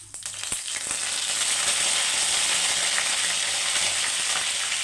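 Mustard seeds and curry leaves sizzle loudly in hot oil, a steady dense crackle that swells in the first second and then holds strong throughout, with no talking.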